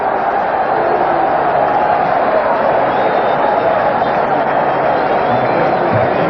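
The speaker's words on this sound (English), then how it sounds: "That one brought the crowd to life" A football stadium crowd roars after a hard tackle at a 1985 Kansas City at San Francisco game, a dense, steady wall of cheering that holds at full volume from start to finish.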